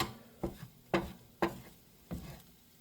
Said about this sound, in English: Just keep scrambling them and stirring them, and really close to being done here